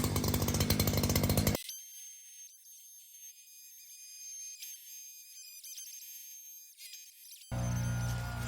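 A hedge trimmer cuts a boxwood in a landscaped yard, opening with a loud buzzing burst, then falling to a quieter clattering run of blade snips before the engine roars up loud again at the end.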